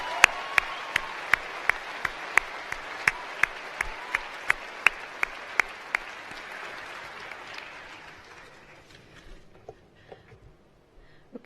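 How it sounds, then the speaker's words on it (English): An audience at a university graduation ceremony applauds the staff, a steady wash of clapping with a few sharp close hand claps on a regular beat, gradually thinning and dying away to scattered claps. "So a big round of applause for the staff who've got you where you are today."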